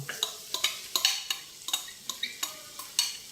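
Mutton bones go into ginger-garlic paste frying in a pan, heard as a quick, uneven run of metallic scrapes and clanks from stirring, with a light sizzle underneath.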